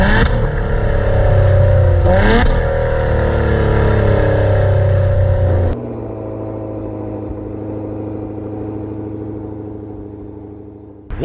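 A 2020 Maserati Levante SQ4 engine runs loud and steady with two quick rev swells near the start, then drops to a lower, smoother idle-like drone that fades before a brief blip at the end.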